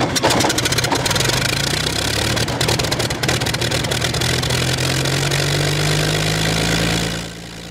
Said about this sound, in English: This is the startup of the engine.